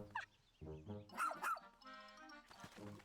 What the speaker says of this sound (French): il y a des chiens maintenant